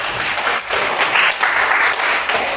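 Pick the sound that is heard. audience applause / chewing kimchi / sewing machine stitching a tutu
audience applause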